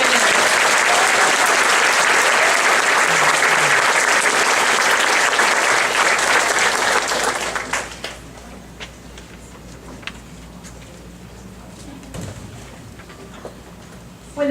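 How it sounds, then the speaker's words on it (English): A school audience claps for academic award winners at a fifth grade graduation ceremony. Loud, dense applause runs for about seven seconds, then fades to scattered claps and quiet room sound. "Round of applause for our academic winners."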